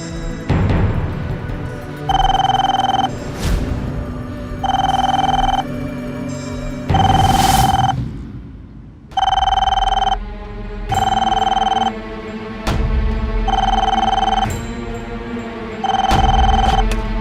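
Telephone ringing: a repeated electronic bell tone in regular bursts of about a second each, loud and close, with rustling and other noise in the gaps between rings.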